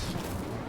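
Incendio fire spell cast in Hogwarts Legacy, a dense, sustained burst of low rumbling blast that fills the whole short moment at steady loudness, with no talk over it.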